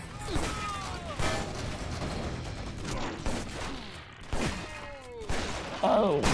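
Gunfire in John Woo's Stranglehold on Xbox 360, in a Hong Kong marketplace: sharp, irregular shots and bursts crack repeatedly over a noisy background, with a voice imitating gunshot noises alongside.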